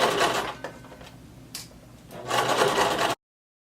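Sewing machine stitching a fabric tie in bursts, a whirring run that pauses briefly and restarts, close and moderately loud with no talking.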